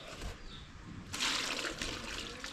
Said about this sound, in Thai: ล้างมือก่อน